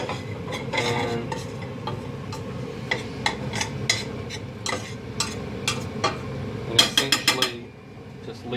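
Flour and butter roux for lasagna frying in a pan while a utensil stirs and scrapes it, with a steady low sizzle under repeated sharp clinks and scrapes of metal against the pan, ending in a quick cluster of taps.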